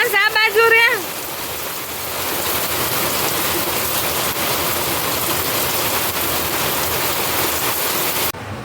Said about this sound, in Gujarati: વરસાદ તો હજી રહેવાનું નામ લેતો નથી, રોકાતો નથી